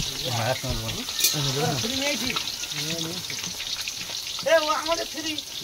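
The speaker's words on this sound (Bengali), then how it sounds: "ঠিক আছে, আলুটা ভেজে নাও।" Potatoes fry in a pan with a continuous close sizzle and crackle, while voices talk over it for most of the time.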